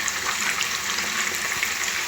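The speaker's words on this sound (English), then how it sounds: "my chicken is frying, it's all looking good" Chicken wings frying in a pan for Jamaican brown stew chicken, a steady close hiss and crackle of hot oil that holds evenly throughout.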